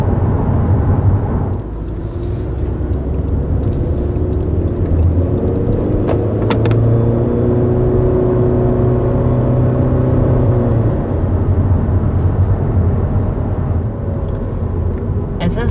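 A 2021 Honda Civic Hatchback sweeps swiftly around a corner, its engine and road noise holding a steady, loud hum with a rising whine in the middle, beneath faint talk.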